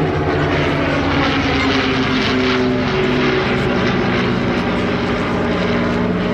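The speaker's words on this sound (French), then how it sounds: "L'appareil qui évolue devant nous est propulsé par deux moteurs Renault." Vintage twin-engine airplane with two Renault engines flying at a Great War-themed air show in Niergnies, a loud, continuous propeller drone with steady pulsing throb and no break.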